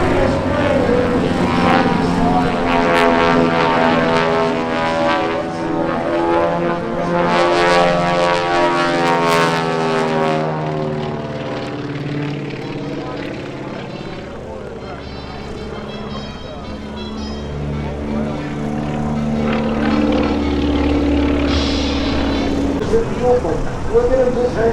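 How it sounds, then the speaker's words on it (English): A Twin Beech propeller airplane drones loudly overhead during an aerobatic display, its engine pitch sweeping and shifting as it passes, while a voice talks over the noise. "look at him bring that airplane over"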